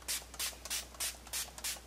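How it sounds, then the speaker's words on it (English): Ofra Makeup Fixer setting spray misted onto a face in six short, close, hissing bursts at a steady rhythm, with no talk. "let's set our face with this Ofra Makeup Fixer setting spray"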